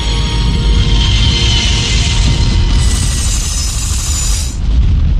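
A Concorde airliner on fire, stalling and plunging into the ground, rendered as a loud, sustained roaring rumble with dense low-end boom and a bright high hiss that cuts off near the end, with no speech.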